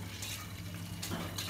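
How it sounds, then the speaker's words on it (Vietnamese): Water drains from the tap on a home water filter system, a soft steady trickle with light splashing, fairly faint and close, with no one speaking. "tháo vòi nước này, xả nước đi"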